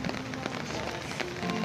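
Steady rain falls outside a busy restaurant in Quezon, a dense continuous hiss of drops with faint background clatter and murmur.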